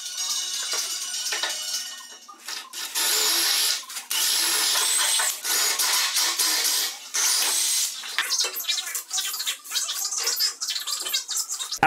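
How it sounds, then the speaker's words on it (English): A power drill fitted with a larger bit bores bolt holes through steel angle iron, whining loudly in long sustained bursts with brief pauses and shifts in pitch as the bit bites. "I take the bigger, larger bit that's going to be able to fit my bolt through the angle iron"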